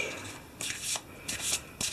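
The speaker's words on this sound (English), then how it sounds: "shuffle them a bit" Eldritch Horror investigator cards get shuffled by hand, producing three short riffling bursts of papery flutter in quick succession, close and quiet.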